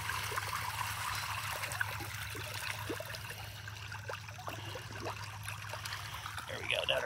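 Water jets in a homemade koi pond draw and circulate water, producing a steady trickling, bubbling flow with small splashes, heard close and continuous under a low hum.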